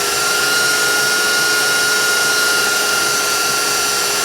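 Electric mixer whisking an egg into brownie batter for Black Forest brownies, a constant high-pitched motor whine running loud and unbroken from start to finish.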